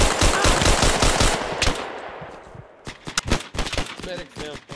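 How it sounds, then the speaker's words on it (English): Sustained machine gun suppressing fire in the World War II shooter Hell Let Loose, a loud rapid burst running about two seconds, then scattered nearer gunshots and distant fire as voices call out over the battle. "Suppressing fire."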